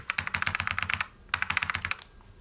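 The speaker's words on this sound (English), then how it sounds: "Maybe it's my keyboard." Fingers typing on a computer keyboard in two quick bursts of rapid clicking, separated by a short pause, close and clear with no talking.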